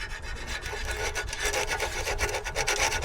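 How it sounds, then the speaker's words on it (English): Rapid back-and-forth scratchy rubbing of a sanding block across the metal oil pan gasket surface of a Toyota 22RE engine, continuous and close, with no talking. "sanding it down a bit with the sanding block"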